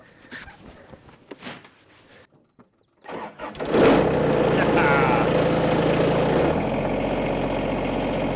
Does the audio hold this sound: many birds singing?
no